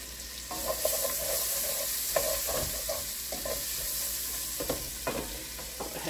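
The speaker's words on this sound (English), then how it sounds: "now I'm going to put the onions in. There's enough grease in the bottom, I think, and I'm going to kind of start browning these things" Onions browning in sausage grease at the bottom of a soup pot, sizzling steadily close up while a spoon scrapes and knocks against the pot at irregular intervals.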